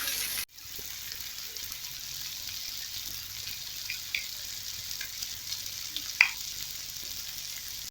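Pieces of vanjaram (seer fish) frying in a pan give a steady, soft sizzle throughout, with a few faint clinks partway through and a brief louder tap near the end.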